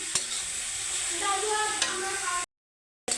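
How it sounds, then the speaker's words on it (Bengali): Soy chunks and radish fry in a pan while a spoon stirs them, giving a steady sizzle with scraping strokes, close and clear, before a brief cut to silence. "কিছুক্ষণ পর চাপাটা উঠিয়ে একটু নাড়ে চাড়ে দিচ্ছি"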